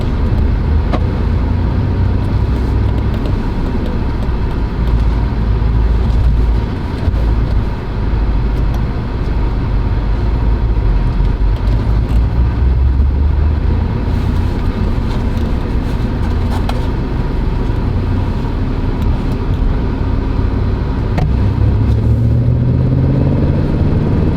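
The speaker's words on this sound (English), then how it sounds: "Get some exhaust notes while we're out for a drive." An Audi B7 RS4 engine drones steadily while driving, its exhaust note rumbling low and continuous, with a brief rev near the end.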